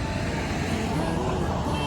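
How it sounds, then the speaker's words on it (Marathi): Road traffic roars steadily past on a busy highway, a loud, dense rumble of cars and trucks with no break, close by and drowning out other sound. "गाड्याचा रोडवरती एवढा आवाज आहे ना"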